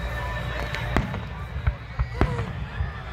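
Fireworks at a July 4th show in Coppersky Park pop and crack in scattered bursts, moderately distant under a steady crowd murmur and background noise.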